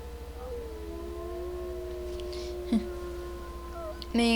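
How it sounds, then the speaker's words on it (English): A long wavering wolf howl from the video game WolfQuest Anniversary Edition, a sustained tonal cry that rises and bends over several seconds at moderate level, followed by a few short game sounds. "Being awoken to a howl was not one of the best things"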